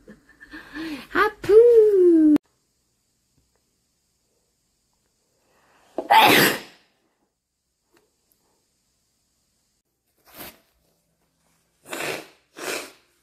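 A woman with allergic rhinitis makes a few vocal sounds, then a single sharp sneeze, followed by a couple of brief nasal bursts separated by silence.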